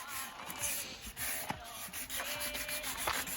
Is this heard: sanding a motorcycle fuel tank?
yes